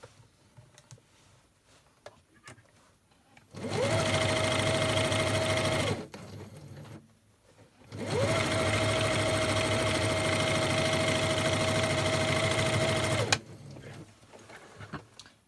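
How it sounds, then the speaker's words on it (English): Sewing machine stitching fabric for a lunch bag, two sustained close runs of steady motor hum and rapid needle chatter, the first about two seconds and the second about five, separated by brief pauses with light handling noise. "And you're going to sew across there."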